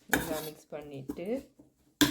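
Jaffna-style tin fish sambal being mixed in a pan, with a few scraping clinks of utensil against cookware in short bursts, separated by quiet gaps.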